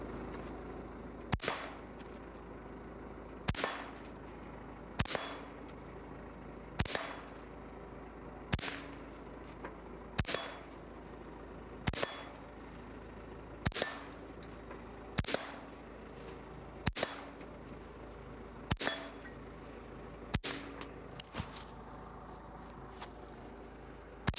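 IWI Tavor 7 bullpup rifle fired at steel targets on an outdoor range, about a dozen sharp shots evenly spaced every couple of seconds, each with a ringing metallic clang, with no talking.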